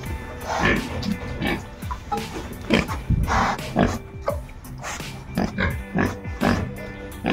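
Pigs on an Assam piggery, including Hampshire and pure Yorkshire breeds and a sow about four and a half years old, grunt and oink repeatedly at close range while a person talks over them.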